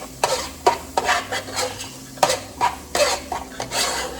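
Onion sautéing in a pot for a soup, a crackling sizzle punctuated by a rhythmic series of loud spoon scrapes and knocks against the pot, up close with no talk.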